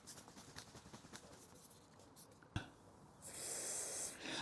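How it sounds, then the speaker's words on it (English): Penetrating fluid is sprayed from an aerosol can onto a stuck windscreen wiper arm spindle: a steady, close, bright hiss that runs for over a second after some light scraping and a sharp click. "We now need to spray the area with penetrating fluid."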